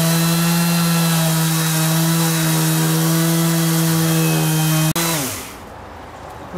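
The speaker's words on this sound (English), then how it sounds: "Let's carry on sanding." A Makita XGT 40V corded power sander sanding wood drones loudly at a steady high-pitched whine, then winds down sharply as the motor slows and stops.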